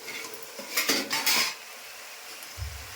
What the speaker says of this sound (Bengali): এখন ঢাকাটা খুলে দিতে হবে